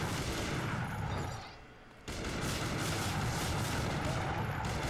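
Sustained gunfire aimed at a helicopter in the PS2 game Gungrave Overdose, a loud, continuous wall of rapid shots and booms that dips briefly in the middle before resuming at full intensity.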